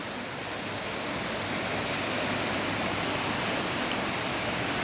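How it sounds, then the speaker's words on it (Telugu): Water flowing and falling over a wooden wheel in Český Krumlov, Czech Republic, a steady, dense rushing roar close by, unbroken and without talk. "వాటర్ ఫ్లో అవుతూ ఉంది"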